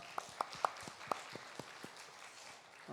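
Church congregation at a Sunday service claps, heard as a faint, sparse string of single sharp hand claps at a loose rhythm that thins out and fades.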